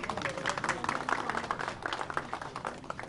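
Audience clapping at an anniversary ceremony for a TV channel, a steady, fairly soft round of applause filling a hall.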